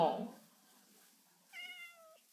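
A cat in the Minecraft video game lets out a single clear meow near the end, following a brief burst of voice and a quiet pause.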